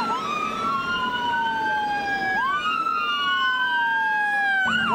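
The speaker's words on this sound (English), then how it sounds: "The sounds of sirens still seem to echo in the streets." Several loud wailing emergency sirens rise and fall at once in city streets after a deadly convenience store crash, overlapping and close, with traffic rumble underneath.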